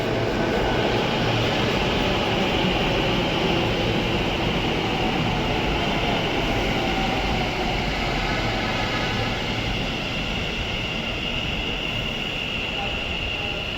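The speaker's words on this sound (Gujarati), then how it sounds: "મેટ્રો આવી ગઈ" A metro train roars into a station in Ahmedabad with a loud, continuous rumble and rushing whoosh, steady throughout, with faint crowd murmur beneath.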